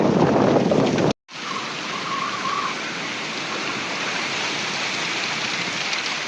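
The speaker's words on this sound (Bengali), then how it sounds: "বৃষ্টির মধ্যে এখন আমরা এই টং ঘরে আছি প্রচুর বৃষ্টি পড়তেছে" Heavy rain pours onto a small raised hut during a storm, a dense, loud, steady hiss and patter that cuts out for an instant early on, then continues unbroken with no talking.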